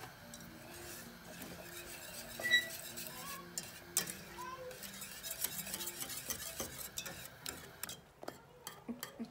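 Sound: stirring lasagna cream sauce in a pot

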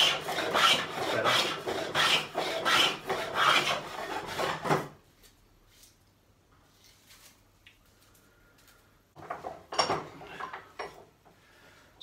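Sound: rebate plane cutting a rebate in wood

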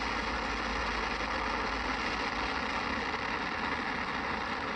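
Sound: SpaceX Falcon 9 rocket engines after liftoff

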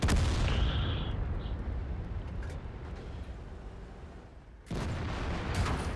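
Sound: tank cannon shot in video game World of Tanks

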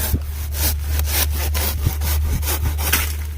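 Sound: hand saw cutting plant stems

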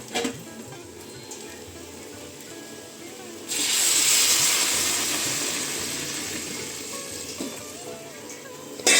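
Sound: hot water poured into simmering potato curry

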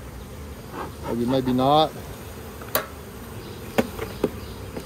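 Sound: honey bees buzzing in an Apimaye hive

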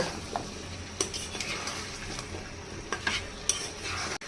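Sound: stirring beans, potatoes and spice masala in a pan

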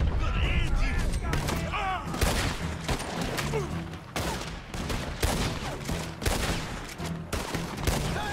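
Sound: Lancaster rifle gunfire in video game Red Dead Redemption 2

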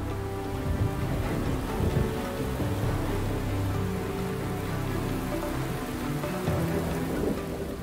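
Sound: rain falling on the African savannah, Masai Mara

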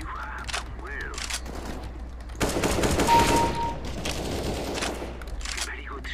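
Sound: gunfire in CS:GO deathmatch video game

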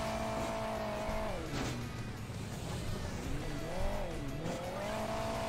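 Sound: car driving on boost in Hill Climb Racing 2 video game

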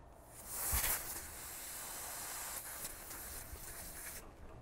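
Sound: hiss from cracking open a valve on a refrigerant line hose

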